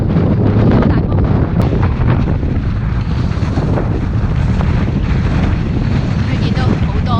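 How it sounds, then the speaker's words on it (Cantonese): Strong gusty wind in England buffeting an outdoor microphone at a seaside viewpoint, producing a loud, constant roaring rumble with fluctuating gusts throughout. "好大風。"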